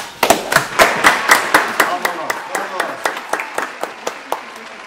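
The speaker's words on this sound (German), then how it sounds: "Einmal Applaus." A small group claps in a quick, fairly close rhythm of distinct sharp claps, slowing and fading slightly toward the end.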